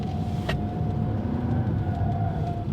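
A 2020 Nissan Rogue Sport corners and brakes hard, giving a steady rumbling drone of engine and road noise from inside the cabin, with a brief tick near the start and a faint thin whine throughout.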